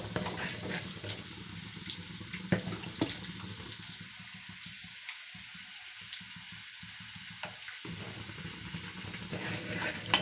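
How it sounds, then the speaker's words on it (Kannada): Sambar simmering in a home kitchen, a soft, steady bubbling wash with scattered small pops and faint clinks, fairly quiet and without talk. "ನೋಡಿ, ಸಾಂಬಾರು ಕುದೀತಾ ಇದೆಯಲ್ವ."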